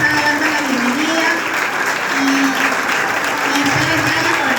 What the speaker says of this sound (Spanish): acá tenemos a una docente, un aplauso para ella, por favor